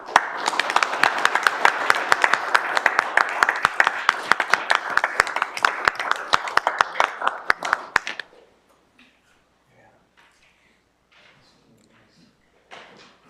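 Applause breaks out at a city council meeting in Staples, a burst of steady clapping from a small group that stops abruptly after about eight seconds, leaving near silence with a few faint sounds.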